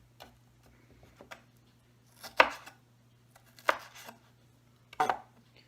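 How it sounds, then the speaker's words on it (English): Bell pepper chopped with a knife on a cutting board: a few light taps, then three sharper knife strikes spaced about a second apart over a low steady hum. "you have this piece off, and then you have this, and we'll just chop that up"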